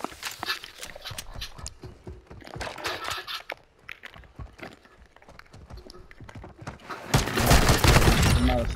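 Gunfire in the Call of Duty: Modern Warfare II video game crackles in sharp, scattered shots and bursts, ending in a louder, denser volley at close range.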